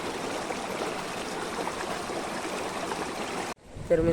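A village river in the Konkan countryside flows past with a steady, close rushing babble that cuts off abruptly near the end.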